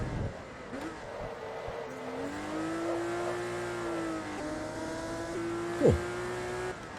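TVR Tuscan S race car in Forza Motorsport 2 revving steadily through a corner, engine note rising and falling with gear changes, plus a brief squeal near the end.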